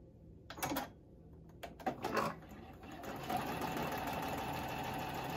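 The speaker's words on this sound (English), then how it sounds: "And then we'll sew these blocks together." A sewing machine stitches quilt block seams for a churn dash block in short bursts, then runs steadily through the last half, close and fairly quiet with no talking.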